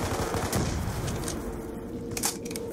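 Rapid gunfire from a zombies survival video game, dense bursts of automatic shots crackling continuously and loudly throughout with a few sharper cracks near the end, no talking.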